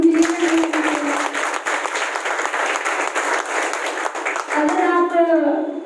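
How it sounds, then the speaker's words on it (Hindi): A crowd at a gathering in Karnal gives a burst of loud, dense clapping that holds steady before a voice begins speaking near the end. "तो एक बार जोरदार तालियां होनी चाहिए।"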